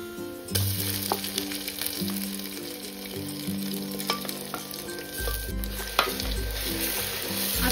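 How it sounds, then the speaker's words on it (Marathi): A ground spice paste fries in hot oil with onion and tomato, a loud dense sizzle with stirring scrapes throughout, close up, with a low background hum and no speech. "आता हे वाटण सुद्धा अगदी छान असं तेलावरती परतून घ्यायचंय"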